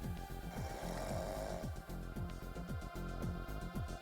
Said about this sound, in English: I get that they have a universal snore sound effect